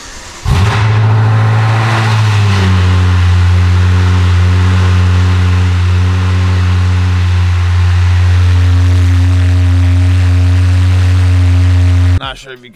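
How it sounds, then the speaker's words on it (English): A BMW F10 M5 fires up in a loud cold start, its engine revving hard and then settling into a deep, steady high idle that drones close to the microphone for about ten seconds before cutting off. "let's go ahead and start up the car, which is gonna be a very, very loud cold start."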